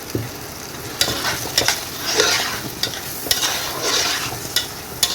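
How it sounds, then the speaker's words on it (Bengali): Taro pieces are stirred and fried in spice masala in a pan, with a steady close sizzle broken by repeated scraping spoon strokes and light clinks, no talking heard. "চার থেকে পাঁচ মিনিট এটাকে আমি মশলার মধ্যে এটাকে কষাবো"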